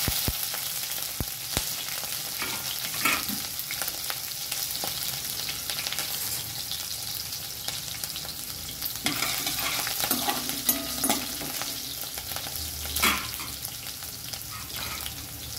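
Green chilies fried in a pan for a carrot rice lunch box, with a continuous close sizzle and occasional scraping stirs. The frying hiss stays steady throughout and no one talks.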